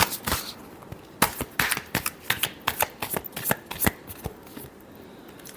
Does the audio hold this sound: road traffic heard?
no